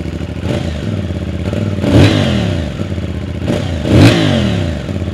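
A CF Moto 450CLC parallel-twin engine with a 270-degree crankshaft idles with a lumpy, V-twin-like throb, rising twice into short blips of revving before settling back, loud and close with some mechanical clatter.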